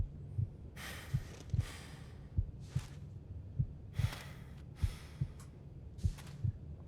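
Pounding heartbeat from the survival game The Long Dark, regular low thuds in pairs under heavy, anxious breathing and occasional sighs.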